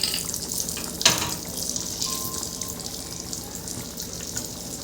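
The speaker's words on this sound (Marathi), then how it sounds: "तर इथं आपलं आता तूप गरम झालंय, तर त्याच्यामध्ये मी थोडंसं लाल तिखट टाकते." Red chili powder dropped into hot ghee for a tempering gives a soft, steady frying hiss with one sharp clink near the start, close and fairly quiet.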